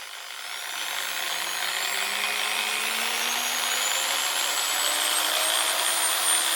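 A Chemical Guys TORQ R polisher whirring continuously up close, its motor pitch climbing steadily as it steps through speed settings, a smooth rising drone with no talk.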